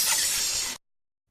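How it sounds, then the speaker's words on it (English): A snake's hiss in an animal-sounds rhyme for children, a single short, sharp airy burst lasting under a second before silence. "A snake hisses."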